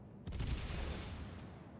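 Cannon salvo shots in a naval video game boom as a rapid, rumbling burst of overlapping blasts that then decays into a low, fading roar, fairly faint and without talk.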